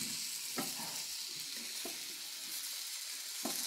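Steak and vegetables searing on a large charcoal grill give a continuous soft hiss with a few faint pops and taps, fairly quiet and steady with nobody talking.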